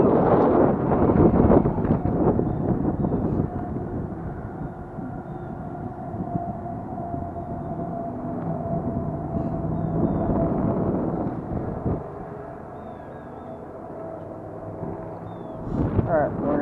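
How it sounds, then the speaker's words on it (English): Strong wind buffets the microphone beside a lake, a steady loud rumbling roar with gusts throughout, heaviest at the start and end. "It is very windy, horrible out right now"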